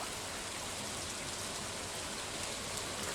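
Steady rain falls in the farming video game Stardew Valley, an even hiss of drops with no breaks or other sounds, and no one speaking.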